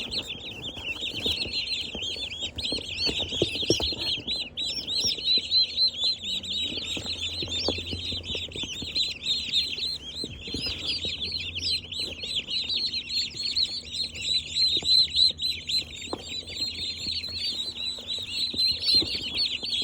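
A box of baby giant white turkey poults peeps constantly, a dense, high chorus of chirps with occasional soft handling noises underneath.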